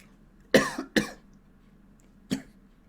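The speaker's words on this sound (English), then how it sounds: "I just had a cough" A person coughs in three sharp, close bursts, two in quick succession and a third after a short pause, against near silence.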